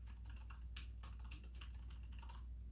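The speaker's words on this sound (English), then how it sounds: "my old keyboard with cherry red keys" Typing on a mechanical keyboard with Cherry Red switches, a steady run of soft, muted keystrokes at close range with no talking, over a low background hum.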